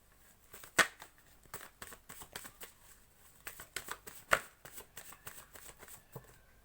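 Tarot cards handled and drawn from a deck, a quiet, close series of crisp riffles, snaps and slides with irregular rhythm and a couple of sharper flicks, no talk.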